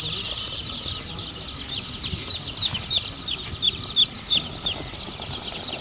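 Local country chicken chicks cheep in a dense, continuous chorus of high peeps, fairly close, with faint rustling and shuffling underneath.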